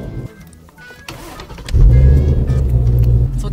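A manual Ford Mustang two-seater starts up: a brief cranking whir, then the engine catches with a loud, deep rumbling idle close by, no talking over it.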